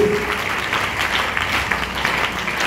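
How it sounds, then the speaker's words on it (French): Audience at a morning prayer meeting applauding, a steady, fairly loud patter of many hands clapping together throughout, with faint voices mixed in. "Acclamons les mains."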